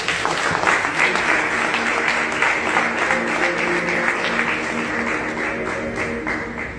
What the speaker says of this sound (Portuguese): Quem ouviu Deus falar, aplauda Jesus